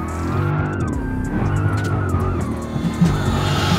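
A modified Dodge Charger with a Hellcat engine in BeamNG Drive spins and skids, its tires squealing steadily over a loud, continuous engine roar.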